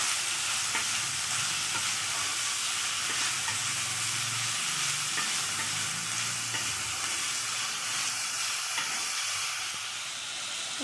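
Cabbage being fried and stirred in a pan for an Odia bandhakobi mung dal tarkari, a steady loud sizzle with scraping stir strokes running throughout, no voices.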